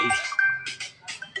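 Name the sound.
phone ringing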